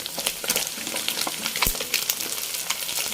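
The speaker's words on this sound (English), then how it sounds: "Now I'm going to add in the rice." Rice and egg stir-fried in a hot pan for Malaysian kampung fried rice, with steady sizzling and frying crackle and scraping stirring strokes. It is close and continuous, with no voices.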